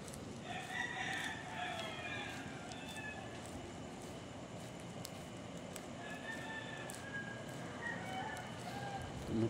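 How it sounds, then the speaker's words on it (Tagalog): A rooster crows at a distance, faint but clear, once near the start and again toward the end, with steady outdoor background noise throughout. "Tumitilaok."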